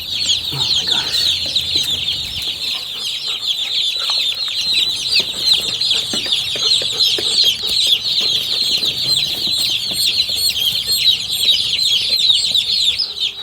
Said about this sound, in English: we have our chicks all set up in the brooders